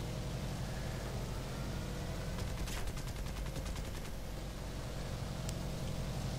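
Aircraft machine-gun fire from a bomber's gunners in War Thunder, a bursty crackle of rapid shots layered over a steady engine drone, with a short clustered volley standing out midway.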